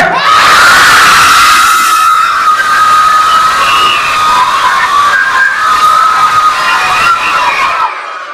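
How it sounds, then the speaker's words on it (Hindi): A large group of children shouts together on cue, a loud sustained massed cry that holds for several seconds, then cuts off abruptly into silence. "अब मैं हाथ ऊपर करूंगा तो आप लोग चिल्लाइएगा"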